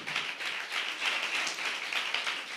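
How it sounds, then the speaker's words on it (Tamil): A church congregation claps hands in a steady rapid patter, fairly faint and even, with no voices over it. "இவ்வளவுதானே உங்க கைத்தட்டு"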